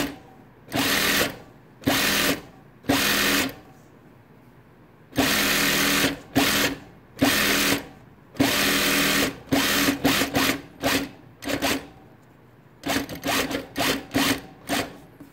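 A Juki DDL-8700 industrial sewing machine with a hemmer attachment runs in repeated bursts, short and long stitching runs separated by pauses, loud and close with a quick whirring drone.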